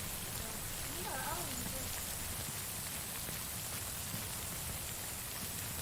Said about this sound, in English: Not when it's raining.